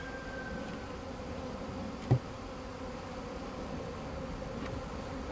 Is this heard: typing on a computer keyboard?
no